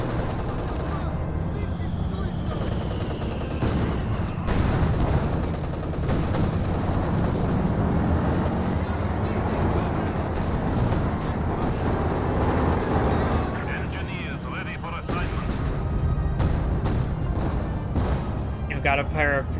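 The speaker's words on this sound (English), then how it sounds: "Got a pair of AT gun shots." Anti-tank gun shots and other gunfire in a Company of Heroes 2 battle, dense booms and bursts of fire layered over constant loud battle noise for the whole stretch, with a caster talking over it.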